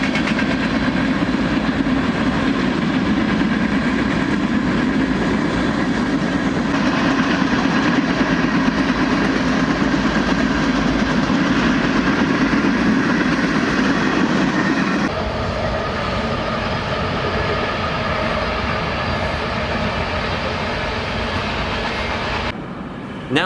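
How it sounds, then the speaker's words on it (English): A long freight train rolls past the Wigwam Motel on Route 66 in Holbrook, Arizona, a steady loud rumble of engine and rail cars. It drops in tone partway through and stays continuous with no talk. "You can definitely hear the freight trains when they pass by,"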